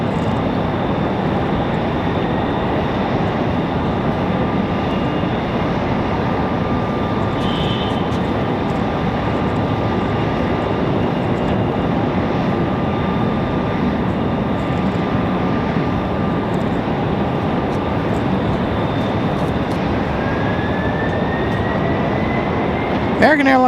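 Steady, loud jet roar of an Airbus A321 climbing out after takeoff at Raleigh Durham International, a broad continuous rumble with a faint whine, sustained throughout with a voice speaking over it.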